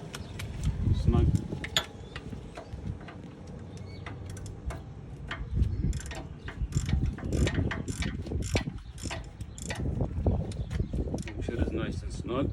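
A ratchet tightens the axle nut on a 2006 Volvo XC90, giving rapid bursts of close metallic clicks between clunks and handling noise, with talk partly mixed in.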